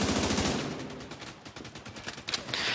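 Rapid machine-gun fire strikes the player in The Division 2, a steady stutter of shots at close range, loud and continuous for a few seconds.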